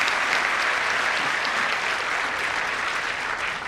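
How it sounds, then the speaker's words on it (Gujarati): An audience gives a sustained round of loud applause, steady dense clapping throughout with no talking over it. "એના માટે એકવાર જોરદાર તાળીઓ આપણે વગાડી"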